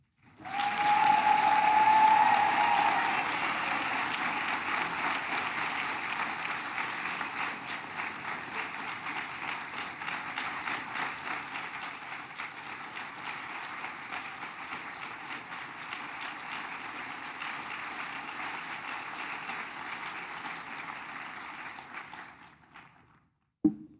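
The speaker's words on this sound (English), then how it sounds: "join me again in a round of applause for Vicki Nichols" A large audience applauds steadily at a nursing school award ceremony after a founders medal is presented, a dense sustained clapping that holds for over twenty seconds before cutting off abruptly.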